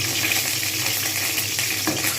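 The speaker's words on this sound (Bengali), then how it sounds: "এবার আমি ডিমগুলো প্রথম ভেজে নেব।" Eggs pricked with a spatula fry in hot white oil for an egg korma, giving a steady, broad crackling sizzle close by with no voices.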